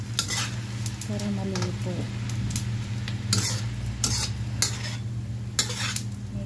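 Bamboo shoots (labong) are stirred in a cooking pan with seasoning, a spatula scraping and clinking in bursts against steady low sizzling, close and moderately loud, with a brief voice in the background.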